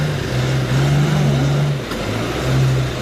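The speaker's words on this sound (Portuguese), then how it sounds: "A frente é um caminhão" A truck drives ahead on a city street in Ouro Preto, giving a steady low engine drone that briefly dips, then resumes without anyone talking.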